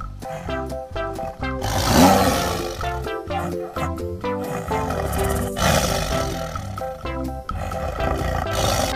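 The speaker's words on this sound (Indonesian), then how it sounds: "Lihat, di sini ada harimau." A tiger roars repeatedly and loudly in a mobile animal-finding game, several deep growling bursts layered over busy game music and effects, with no talking.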